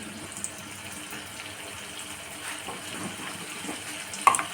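A small amount of cooking oil is poured into a pan on a stovetop while frying slices of bottle gourd, heard as a soft, steady liquid trickle and gush close by, with no talking.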